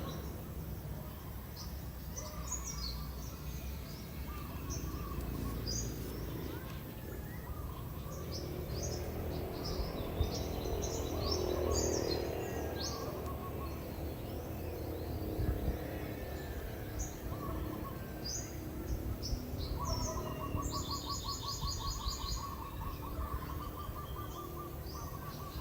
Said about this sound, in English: Do you guys hear the birds?